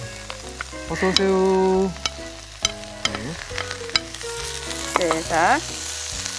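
Shrimp sizzle in a wok for seafood jjamppong with loud bursts of frying and stirring clatter, under brief short remarks from people nearby.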